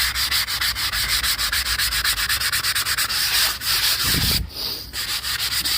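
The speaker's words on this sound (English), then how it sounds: "sandpaper does an amazing job as well. Getting into those riffles." A wooden TV unit is sanded by hand with sandpaper, rapid rhythmic back-and-forth rasping strokes, loud and close, with a brief pause near the end before the scraping resumes.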